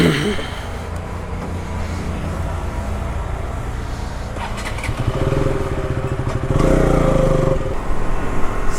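A motorcycle travels along a road in Andhra Pradesh, its engine droning steadily close by and rising in a couple of louder revving surges toward the end.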